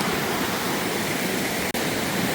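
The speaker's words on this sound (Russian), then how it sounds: "Шум воды." Loud, steady rush of a nearby river at a riverside campsite on the Koksu, a continuous broadband roar that fills the whole stretch, briefly dipping once, with no talking.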